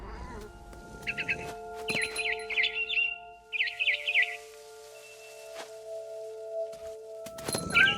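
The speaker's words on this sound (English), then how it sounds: "Then I heard chirping outside my window. It was a barn swallow going back to her nest." A barn swallow in What Remains of Edith Finch chirps in a few quick bursts over a low ambient hum, with scattered thumps and a rustle at the end.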